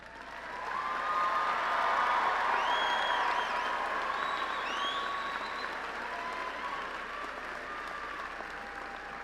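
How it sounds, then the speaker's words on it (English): A large audience applauds baccalaureate graduates at a university College of Engineering commencement, sustained broad clapping in a big hall. It swells early and then eases slightly as it continues, with faint tonal sounds over the top. "Would those receiving baccalaureate degrees please stand and receive our applause?"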